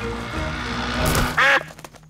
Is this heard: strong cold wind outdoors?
no